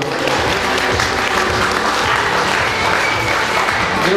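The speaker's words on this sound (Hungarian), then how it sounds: "Kérjek egy tapsot a negyedik osztálynak." Sustained applause from a school audience for fourth-grade pupils at a primary school costume ball, a steady dense clapping that fills the whole stretch at close range with faint crowd murmur.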